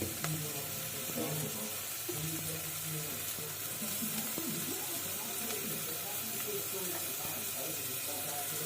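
Masala roasts lightly in a pan for chicken gravy, giving a faint, steady hiss and sizzle under a voice speaking throughout.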